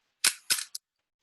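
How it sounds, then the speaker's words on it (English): SLR camera firing at a quarter-second exposure: two sharp mechanical clacks about a quarter second apart as the reflex mirror flips up and returns, followed by a small click, close and isolated in silence. "what you're hearing is not the shutter, but the reflex mirror popping up out of the way"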